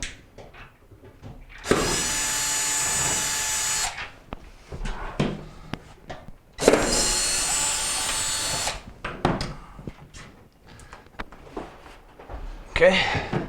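A power drill backs out Phillips screws from the control panel of a GE dryer, running in two sustained bursts of about two seconds each, loud and close, with clicks and handling noises between them.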